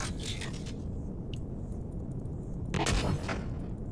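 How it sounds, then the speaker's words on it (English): A weapon reloading in the space survival game Empyrion, with a run of mechanical clicks and scrapes followed by a louder metallic clack near the end, over a low rumbling background. "Reloading."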